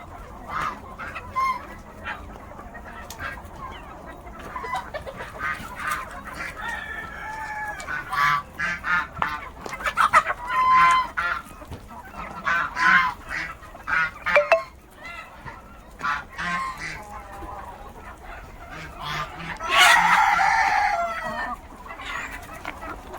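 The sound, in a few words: chickens clucking while going into the shed at evening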